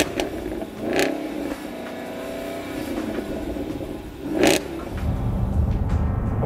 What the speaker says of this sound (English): With a 5-litre supercharged V8 engine, this car's giving you just over 600 horsepower to play with.